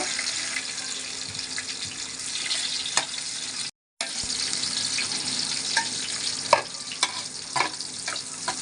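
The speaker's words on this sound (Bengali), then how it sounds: "দারচিনি এলাচি দিয়ে দিয়েছি, তেজপাতা তেলের মধ্যে ভেজে নিব।" Cinnamon, cardamom and bay leaves fry in hot oil with ghee, a steady close sizzle and crackle running throughout with a few sharp pops and a brief dropout near the middle.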